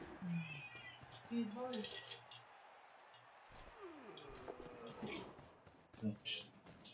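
A pet cat meows softly a few times in a quiet room, faint and intermittent, with low background noise.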